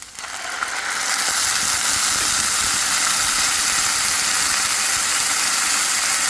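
Red and white wine vinegar hits a hot pan of caramelizing onions and garlic, bursting into a loud, sustained hissing sizzle that rises within the first second and holds steady, close and without speech.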